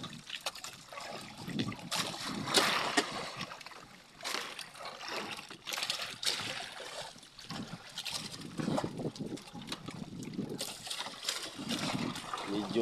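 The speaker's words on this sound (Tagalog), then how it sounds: "So kung maririnig ninyo ang kalampagan ng bangka, masyadong malakas pa ang mga guys, alon, malalaki." An outrigger boat at sea in big waves gives irregular knocks and clatter amid sloshing and splashing water, moderately loud and continuous, with someone talking at times.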